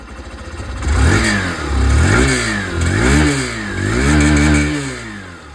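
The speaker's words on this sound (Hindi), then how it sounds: "ये जो आप कह सकते हैं सुपर स्प्लेंडर एक्सट्रेक मॉडल है, इसकी जो आवाज है वो भी मैं आप लोगों को सुना दूं।" Close recording of a Hero Super Splendor 125 Xtec motorcycle engine, idling then revved in several rising and falling throttle blips, each swelling loud before dropping back to a steady putter.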